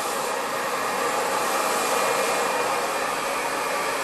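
A hair dryer blows steadily during a salon blow dry of above-shoulder-length hair, a loud, even broadband whoosh held without a break for the whole stretch, no voices over it.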